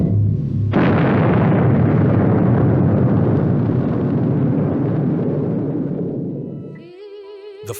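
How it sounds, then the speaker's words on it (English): Film sound effect of nuclear charges blowing apart the spaceship Valley Forge: a sudden, massive roaring blast that rumbles on for several seconds, then fades into electronic warbling tones. "He then detonates nuclear charges, destroying the Valley Forge"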